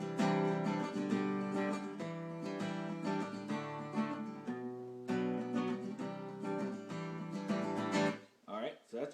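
Acoustic guitar strumming the chorus of a song, steady full chords with a brief sparser turnaround near the end, played alone without talk.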